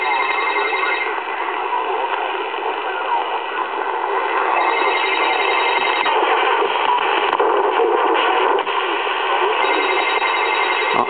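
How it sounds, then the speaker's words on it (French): A CB radio picks up distant stations through band conditions, giving a band-limited hiss of static with faint, garbled voices and warbling tones fading in and out over a steady crackle. "Et la propagation qui se lève, on commence à entendre des stations."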